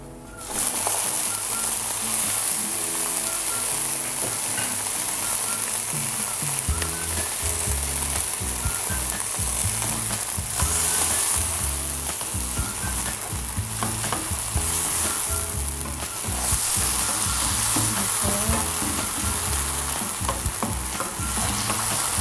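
Onions and tomatoes sautéing in a pan, a steady close sizzle with stirring scrapes and clatter throughout.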